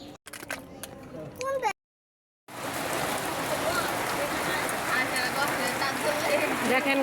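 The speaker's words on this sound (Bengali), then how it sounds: "বৃষ্টি পড়ে গেছে" Rain falls steadily outdoors near a roadside shop, a dense, even hiss of drops that starts after a short pause and continues without letup; brief voices and movement come before it.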